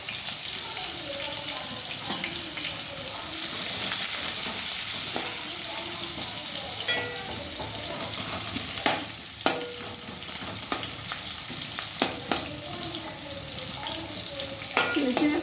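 Onions fry with mustard seeds and cumin in a pan, making a continuous sizzle and crackle. Stirring adds scraping clinks, and sharper spoon-on-pan knocks come in the second half. The sound is close and fairly soft, and a few voices murmur in the background.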